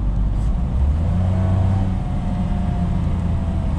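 A 2020 Toyota Wigo's 3-cylinder engine revs after a downshift into second gear during spirited driving. The engine drone is steady and loud, with a low rumble holding throughout and no talk.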